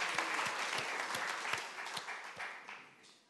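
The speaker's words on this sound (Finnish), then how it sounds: "Antaa aplodit Jeesukselle." A church congregation claps in a warm, steady round of applause, with a few louder individual claps standing out before the sound gradually fades.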